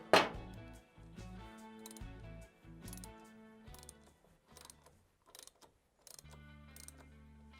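A ratchet snugs down bolts on an 883cc Harley-Davidson Sportster during an S&S 1200cc Hooligan kit install, giving bursts of rapid clicking with short pauses between runs, close and fairly quiet, with no talking.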